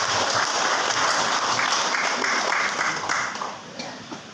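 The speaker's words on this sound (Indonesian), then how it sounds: "tepuk tangan untuk Tuhan" A church congregation at a synod worship service in Tanah Papua claps together in a sustained, fairly close burst that thins out and fades over the final second.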